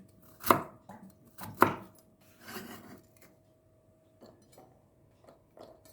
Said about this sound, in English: Have 1 piece of spring onions. Remove the roots and the end of the leaves. Cut and then chopped.